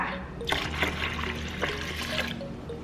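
Plain water, 650 ml, pours close up into batter for khanom krok, the Thai coconut rice pancakes, making a continuous trickling splash for the whole moment.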